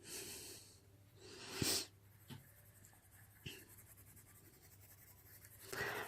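Polychromos colored pencil shading on paper with firm pressure over the darkest areas, heard as soft scratchy strokes in a few short bursts with quieter rubbing between, close and faint.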